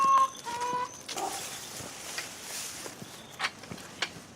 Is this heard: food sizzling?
no